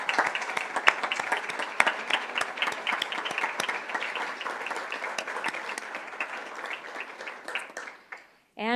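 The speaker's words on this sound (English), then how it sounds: "Would you stand so we can give you a big round of applause?" A crowd at a school district governing board meeting gives a sustained round of applause lasting several seconds before it fades out, with a voice starting up just at the end.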